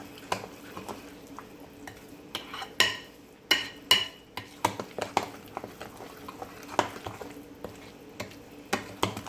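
Sweet potato pudding batter being mixed in a bowl: sharp, irregular spoon clinks and wet scraping strokes against the dish, fairly close and moderately loud, with no talking.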